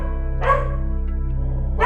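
A dog barks twice, a short bark and then another at the end, over a steady low hum, heard from indoors at a house.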